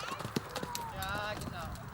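Lipizzaner horses at Vienna's Spanish Riding School make a brief run of quick hoof clip-clops, heard faintly beneath a voice.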